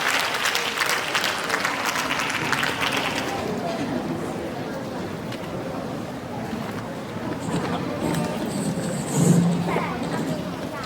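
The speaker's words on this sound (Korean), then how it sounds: "우리 박수로 환영하도록 하겠습니다" An audience at a Korean speech contest for foreign speakers gives sustained, fairly loud applause to welcome the next speaker, the clapping filling the hall as an announcer talks through parts of it.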